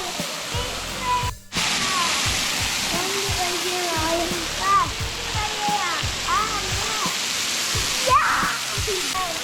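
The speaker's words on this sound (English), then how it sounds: "go behind the waterfall" A steady, full roar of a waterfall on the Blue Ridge Parkway close by, constant broadband rushing with faint voices murmuring underneath.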